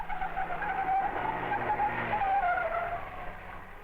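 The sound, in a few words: car tyres skidding during hard cornering test, 1950s film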